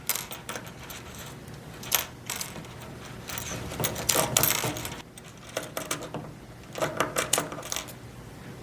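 Scissors snip small plastic pieces off a connecting string, making a series of close, sharp clicks and plastic rattles in irregular bursts with short pauses between.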